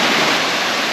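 Kawasan Falls waterfall rushes in a dense, steady broadband roar, loud and close, with no voices over it.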